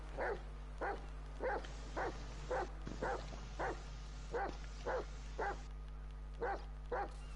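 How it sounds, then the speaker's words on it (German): A dog barks steadily in GTA 5 Online, about a dozen evenly spaced woofs, moderately loud over a constant low hum, with no talk. "Chris, guck mal, ich bin Hund"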